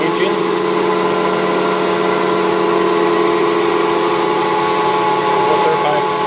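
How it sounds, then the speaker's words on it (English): Asynchronous electric motor running at an off-grid house, driving a water pump, a loud steady hum and whine close by, unchanging throughout. "This asynchron engine."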